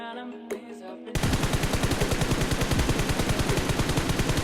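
Sustained rapid automatic fire while testing recoil in PUBG Mobile, dozens of evenly spaced loud shots in a continuous stream following a brief quieter moment at the start.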